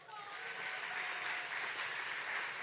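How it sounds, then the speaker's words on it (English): Audience applause at a Malcolm X Day birthday celebration honoring an awardee, a steady wash of clapping that holds evenly throughout, with faint voices underneath. "Give a round of applause."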